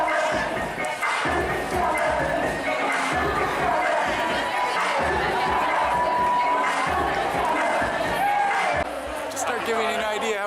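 A large street crowd at the SF Dyke March parade keeps up a steady murmur of chatter and scattered cheers, with people talking throughout.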